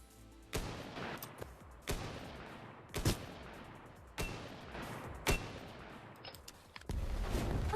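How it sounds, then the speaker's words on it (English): A sniper rifle fires in the shooter game Gun Raiders, producing about half a dozen sharp, loud single shots spaced roughly a second apart, each with a short decaying tail and no talking. "And now the sniper rifle."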